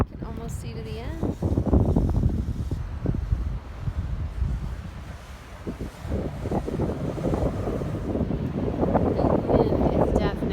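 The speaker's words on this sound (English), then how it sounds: "The wind is definitely picking up the closer to the center that we get" Wind gusts buffet the microphone on the New River Gorge Bridge on a rainy, windy day, a rough, uneven rumble that rises and falls under people talking close by.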